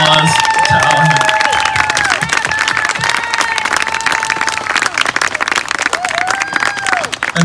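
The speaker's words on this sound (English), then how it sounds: "So please give a round of applause to Alejandra." A crowd at a community painting presentation applauds Alejandra, a Latina transgender advocate. Loud, close clapping mixes with cheers and high whoops throughout.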